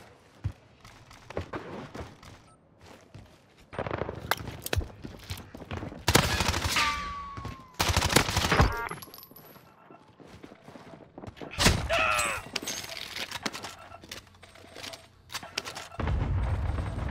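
MP5 submachine gun firing in the Call of Duty Warzone video game on Rebirth Island, several loud bursts of rapid shots separated by quieter stretches, mixed with thuds and other game effects.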